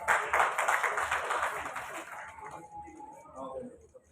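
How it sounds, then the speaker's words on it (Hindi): An audience applauds to welcome an honoree at a ceremony marking Maharana Bhupal Singh's 139th birth anniversary. Dense, steady clapping fills the room at first, then thins out and fades as a voice carries on. "आप तालियों से स्वागत करें।"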